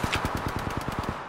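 Rapid automatic gunfire in the Apex Legends Mobile battle royale game, a steady burst of about a dozen evenly spaced shots over a second, loud and close with no talk.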